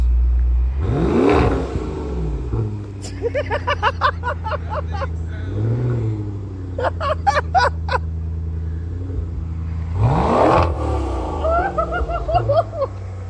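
A 2019 Maserati Levante GTS's Ferrari-built 3.8-liter engine revs hard several times, rising and falling in pitch, with a deep idle rumble between bursts and a crackle on the overrun.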